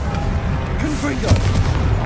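Confringo blasting spell from Hogwarts Legacy going off as a deep, rumbling boom with a brief crackle of debris, set against ongoing game ambience and a voice speaking throughout.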